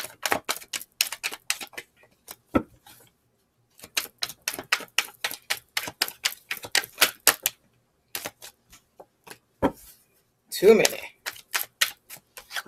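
Tarot cards are shuffled in fast bursts of crisp, flicking clicks, broken by short pauses. A voice speaks briefly between the bursts.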